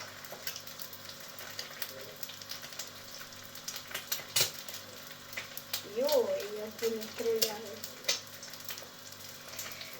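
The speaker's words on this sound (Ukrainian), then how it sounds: "Поки в нас смажиться яйця, ми чекаємо." Soft steady sizzling of eggs in a frying pan runs throughout, with a brief voice murmur partway through and a few clicks and clatters.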